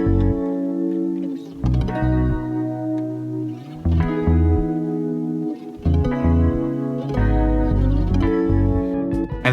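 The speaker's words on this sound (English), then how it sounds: "I decided to make the bass extra funky" A funky, busy bass line heavy with effects, bouncing through a full band mix in a song, with thick low notes, rhythmic gaps and a washy, chorused, echoing texture throughout.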